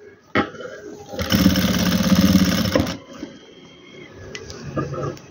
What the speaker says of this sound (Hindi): ये दूसरे कंधे को भी स्टिच कर लेते हैं, यहाँ तक ही इस पर सिलाई लगाएंगे।